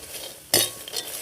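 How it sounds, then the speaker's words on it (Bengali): Dry fruits frying in a pan for spicy flattened rice, a low sizzle broken by one sharp metallic scrape of a spoon against the pan, followed by lighter clinks and stirring, close by. "দেখুন ড্রাই ফ্রুটসগুলো কিন্তু ভাজা ভাজা হয়ে এসছে হালকা।"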